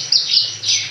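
Bush lark (branjangan), a breeding bird about four years old, chirps in bright high-pitched bursts close by, three overlapping phrases over a steady low hum, with no voices.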